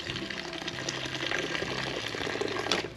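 Hot water from a sparge water heater pours steadily into grain in a Grainfather G30 brewing system, a continuous splashing, gurgling flow, close by and fairly loud.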